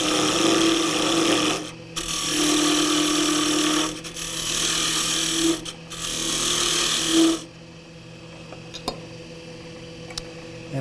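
A bedan cuts a wooden kitchen scoop spinning on a lathe, with three loud, sustained bursts of rasping, scraping cutting separated by brief pauses, then only the lathe's quieter hum.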